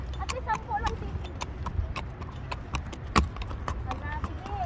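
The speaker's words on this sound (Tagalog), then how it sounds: "Ang sexy naman maglakad ng kabayo" A walking horse's hooves clip-clop in a steady rhythm close by, with people chatting throughout and a louder knock partway through.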